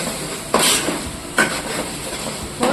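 Onion paste sizzles in a hot pan while a spoon stirs and scrapes it in three distinct strokes, each a short metallic swipe over a constant frying hiss, with no talking.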